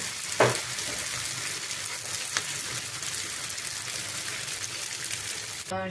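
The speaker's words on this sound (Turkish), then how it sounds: "Şimdi köftelerimiz kızardı." Stuffed içli köfte bulgur meatballs fry in hot oil with a steady, close sizzle and crackle, a few sharp spatters and clatters breaking through near the start and end.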